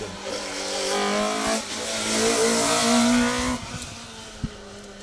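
Rally cars race flat out on an asphalt stage, with engines loud and close, revving through gear changes and rising and falling as they pass, then easing away near the end.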